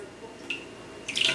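A dash of water poured into beaten eggs seasoned with mirin and white pepper for tamagoyaki, heard as two brief, soft splashy trickles, one near the middle and a slightly longer one at the end.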